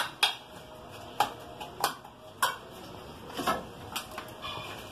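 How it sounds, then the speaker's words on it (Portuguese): A spoon stirs chicken liver with lemon in a pan, making sparse, faint metal clinks and scrapes at uneven intervals against a quiet kitchen background, with no one talking. "Vou misturar."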